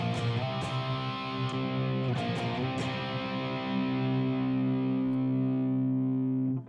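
Distorted electric guitar played through an amp modeler with an Uber cab simulation, a few picked chords and attacks ringing out into a long sustained, thick chord that holds loud to the end.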